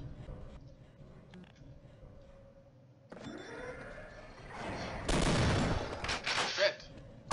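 Shotgun blasts from Half-Life, a PC first-person shooter, ring out loud and close after a quieter stretch, with several sharp bursts clustered together and echoing tails between them.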